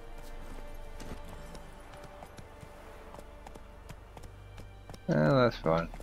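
A horse's hooves clop through the Velen region in the Witcher 3 video game, a soft steady rhythm of hoofbeats under background game sound, followed by a short loud burst of a whinny or voice near the end.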